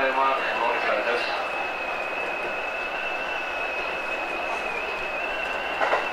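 A Kintetsu Nara Line train runs steadily along the track past Ayameike Station, with continuous rolling rumble and a high wheel squeal or whine throughout, heard from the front cab, while a voice narrates over it.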